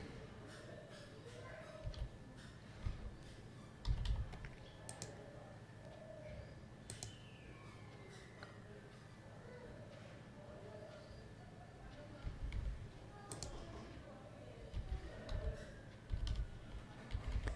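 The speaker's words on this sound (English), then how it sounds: "type a new password" A new password is typed on a computer keyboard, giving scattered bursts of soft, close key clicks and taps over a quiet room hum, with irregular pauses between groups of presses.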